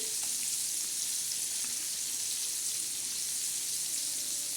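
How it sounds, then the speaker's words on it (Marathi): Pomfret fish coated in semolina, red chilli, turmeric and salt, shallow-frying in oil in a pan with a steady, even hiss of sizzling oil and no pauses. "हे बघा आपला पापलेट मासा कसा मस्त असा खमंग आणि असा छान असा तळत आहे"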